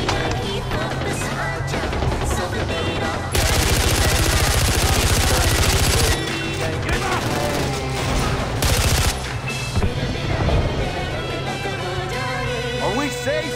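Gunfire in the video game Far Cry 4, rapid machine-gun bursts and repeated shots in long loud stretches over engine and combat noise, with voices calling out at times.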